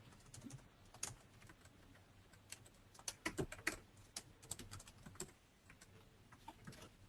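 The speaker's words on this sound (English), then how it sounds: "All you need to do is just you start typing." Someone types on a computer keyboard, with quick, irregular clicks up close and quiet pauses between short runs of keys.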